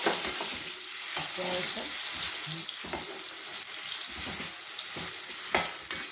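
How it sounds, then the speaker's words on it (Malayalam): Raw plantain pieces tossed into hot oil and stirred for pickle, a loud continuous sizzle with scraping and clattering of a spoon in the pan, close up, with a brief spoken word. "ചൂടായ എണ്ണയിലോട്ട് നമ്മൾ ഈ ഏത്തയ്ക്ക ഇട്ട് കൊടുക്കുകയാണ്"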